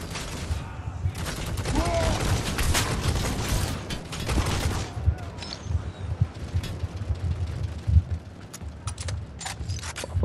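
Rapid bursts of upgraded gunfire with a bigger magazine and incendiary rounds in the game Necromunda: Hired Gun, dense and loud for several seconds, with mechanical clatter and a steady roar beneath.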